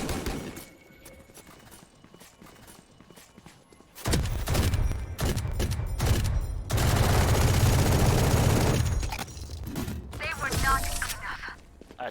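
Bursts of gunfire from the Valorant video game hammer out in loud, dense volleys with short pauses between them, mixed with other game sounds, and a player talks throughout.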